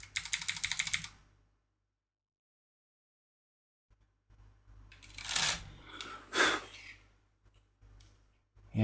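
Someone types on a computer keyboard in quick, dense clatters: a brief burst, a long silence, then a longer stretch of keystrokes over a low hum, with breathing-like noise mixed in.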